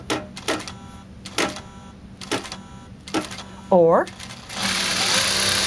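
A Juki sewing machine stitches in slow single bursts, about five evenly spaced clacks, then runs into a steady fast whir at the end. A brief whine rises in the middle, and a short spoken word is heard.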